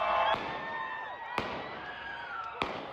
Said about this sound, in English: Gunfire breaking out during a demonstration in Salt Lake City, Utah.